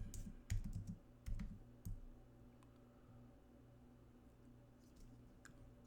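Faint computer keyboard typing, a short burst of soft key clicks at the start followed by a few sparse taps over a quiet room hum.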